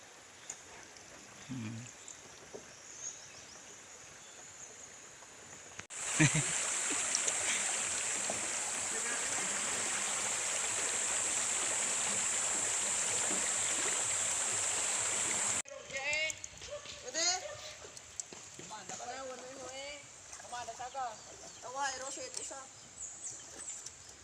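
Water flows and splashes steadily around a bamboo raft on a cool river, loud and continuous for several seconds, then quieter with birds chirping and people talking nearby.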